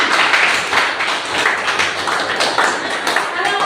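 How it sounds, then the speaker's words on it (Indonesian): Classroom children clapping their hands together in a quick, somewhat uneven burst of many small claps, fairly close and steady throughout, with faint voices mixed in. "iya, bagus, tepuk tangan"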